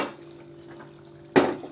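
Gongura leaves drop into simmering mutton curry in a pot, with a quiet bubbling background and then one sudden wet splash followed by a short settling gurgle.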